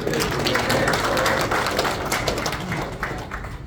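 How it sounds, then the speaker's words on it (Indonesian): Applause at an official installation ceremony for North Jakarta sub-district election supervisors, a dense, steady patter of many hands clapping in a large room, moderately loud and sustained. "Kita beri tepuk tangan."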